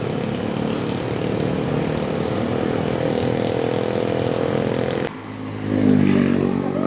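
A steady engine drone from a motorcycle service ride runs throughout without a break, loud and close. Near the end there is a brief change in tone as the motor shifts.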